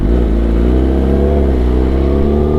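Kawasaki Venom motorcycle engine revving loud and close, a steady throaty roar with a rich layered tone that shifts slightly in pitch as the throttle holds, with no voices over it.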